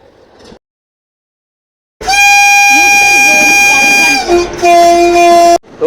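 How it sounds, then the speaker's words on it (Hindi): At a railway crossing, a train sounds its horn in a long, loud, close blast after a brief silence, then gives a second, shorter blast, with voices briefly heard. "उधर की साइड से आ रही है ट्रेन, पीछे से निकलेगी।"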